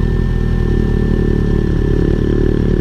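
A motorcycle engine holds raised revs at a steady drone during a slow hill start on the road, loud and close, with no voices.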